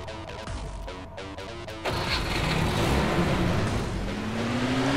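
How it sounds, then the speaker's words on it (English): A UAZ vehicle driving in the Arma 2 DayZ mod, its engine rumbling steadily, then swelling into a louder, rougher drone with a rising whine, continuous and fairly close. "Is that you driving the UAZ?"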